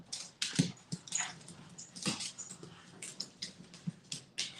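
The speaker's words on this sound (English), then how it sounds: "My dogs is fighting, hold on." Dogs fighting outdoors near a trash can, a scuffle of quick yips, whimpers and scrabbling bursts in a rapid irregular rhythm, fairly faint and distant-sounding with no talking.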